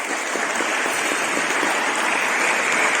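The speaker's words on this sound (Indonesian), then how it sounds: "Sekali lagi tepuk tangan untuk Akna dan Zulal." An audience at a santri speech and arts event applauds, a steady dense wash of clapping that stays loud and even throughout.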